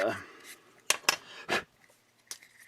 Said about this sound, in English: Enjoying that horrible scraping sound.